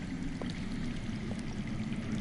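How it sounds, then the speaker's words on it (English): Flowing water from underground in a video game, a steady low rushing and trickling wash that continues evenly throughout with no talking. "That's water. I hear water. From underground."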